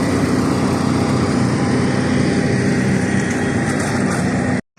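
Steady, loud engine drone of an Air Serbia ATR 72 turboprop airliner heard from inside the cabin on a flight from Zadar to Belgrade, continuous and unbroken before cutting out abruptly at the end.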